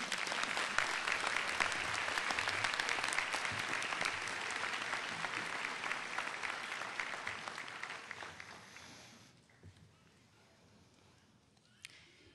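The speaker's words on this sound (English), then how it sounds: "give each other a round of applause" At a 2010 nursing school commencement, the graduating class fills the hall with a long, full round of applause that holds steady for several seconds, then dies away into near quiet with one last stray clap.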